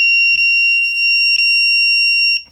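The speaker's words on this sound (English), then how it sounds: "you can confirm that this piece over here is actually the buzzer" Circuit-board buzzer from a walking pad under-desk treadmill sounding a steady, loud, piercing electronic tone that holds for over two seconds with faint clicks, then cuts off.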